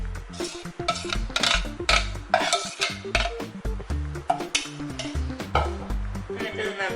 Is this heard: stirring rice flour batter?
yes